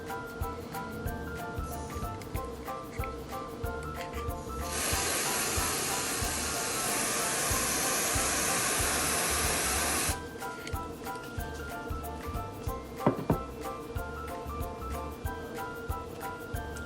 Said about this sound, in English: we're going to grab our CO2, turn it upside down, and then very carefully we're going to spray the bottom of the bottle